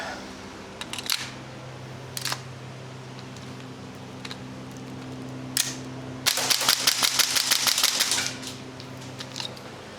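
Toxicant and Salvo Precision MWS MCX gas airsoft rifles fire in a few single sharp cracks, then a fast rattling string of shots, close by over a low steady hum.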